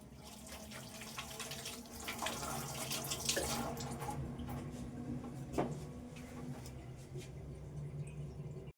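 Water runs from a kitchen tap, filling a container for storage, a steady quiet splashing stream with occasional clinks of vessels nearby.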